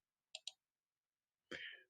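Two quick mouse clicks close together, then after a pause a single louder click, sharp and quiet against silence, while selecting a box in an edit window for scoring.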